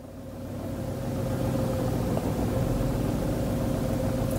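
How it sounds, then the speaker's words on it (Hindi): Tata Tiago car engine idling just after starting, heard from nearby: a steady, even mid-pitched hum and rumble that swells slightly over the first second and then holds constant, with no talking. "अब एक चीज है यार जो टियागो में कहीं ना कहीं इसे बैकफायर करती है, इस कार की नॉइस।"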